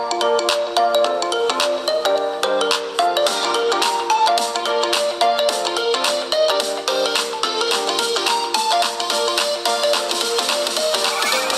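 A ringtone melody plays through the speaker of a realme GT 5G phone, a steady, bright electronic tune that runs continuously and fairly loud with no voices.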